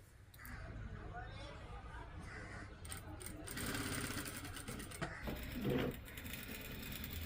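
A sewing machine stitches the lining of a party frock in a tailoring shop, quiet rattling runs that start and stop while people talk nearby.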